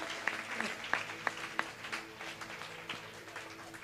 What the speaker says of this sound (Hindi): तो चंद लोगों की ताली थी।